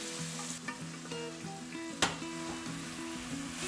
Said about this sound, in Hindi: अभी हमें इस गाजर को अच्छी तरह से घी के साथ मिक्स करना पड़ेगा, भूनना पड़ेगा।